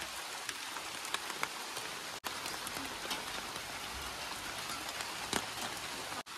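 Heavy rain pours down steadily in a continuous dense hiss, with occasional louder drops striking a surface nearby and no voices over it.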